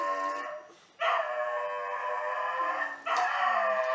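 An upset dog howls downstairs in a house, long sustained mournful howls in two drawn-out waves with a brief break, fairly loud and without talk.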